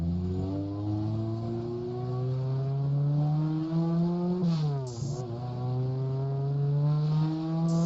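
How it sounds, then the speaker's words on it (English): A car engine in a Unity-built game revs hard and steadily, its whine climbing as VTEC engages, with a brief dip and a nitrous boost partway through; loud and continuous, no talking. "I like to press the nitrous as it starts hitting that VTEC"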